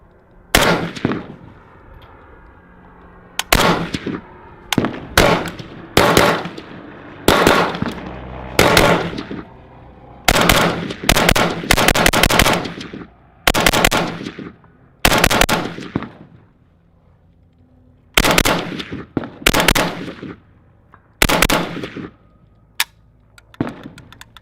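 A WBP Fox AK-47 rifle fires outdoors in quick, loud bursts and single shots, each sharp crack followed by a short echo, with brief pauses between strings of rapid fire.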